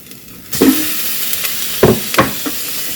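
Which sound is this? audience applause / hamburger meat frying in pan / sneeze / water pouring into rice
hamburger meat frying in pan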